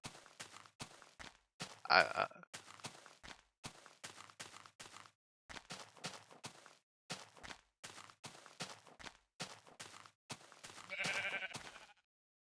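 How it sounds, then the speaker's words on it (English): Sheep bleating in a Minecraft-style video game, with a couple of clear bleats standing out over choppy, close speech that runs through most of the stretch. "Where are the sheep? Oh, they're down near the wall."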